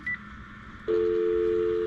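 Steady telephone dial tone from a newly installed home phone line, heard loud and close as the handset connects, preceded by a brief short beep; continuous and unbroken to the end.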